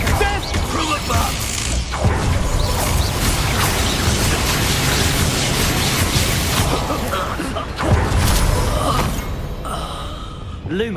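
Confringo fire spell explosions in the Hogwarts Legacy video game, a long run of loud crashing blasts and mechanical clatter with repeated booming hits and a brief lull near the end.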